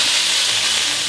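Shallots sweat in a hot pan, giving a steady, close sizzle and crackle with no talk.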